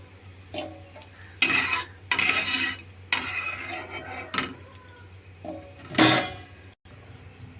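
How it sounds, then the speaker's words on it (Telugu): Fried cashews and raisins scooped from a pan of ghee into another bowl, several loud scraping and clinking bursts of a spoon against metal separated by short pauses, close up with no talk. "వేరే గిన్నెలో తీసేసుకోవాలి"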